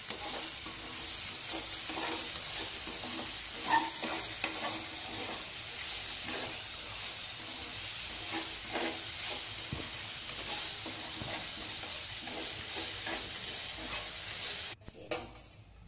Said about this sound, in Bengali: যে কেটে রাখা আলুগুলো সেগুলোকে ভেজে নেব।